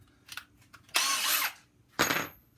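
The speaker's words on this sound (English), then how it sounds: "Some of these we're going to have to end up pre-drilling." Power drill pre-drilling holes in HDPE plastic for an epoxy mold: two short whirring bursts close by, the first about half a second long and the second briefer, preceded by faint taps and handling noises.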